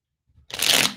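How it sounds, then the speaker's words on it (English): A deck of tarot cards gets a quick shuffle, a soft tap followed by one short, crisp burst of riffling cards, close and clear. "While I'm shuffling,"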